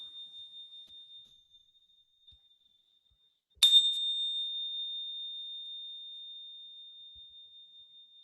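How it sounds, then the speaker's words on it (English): A single bell is struck once during a quiet yoga relaxation, a bright, clear ring that hangs and slowly fades over several seconds in an otherwise silent room. "The sounds of the bell."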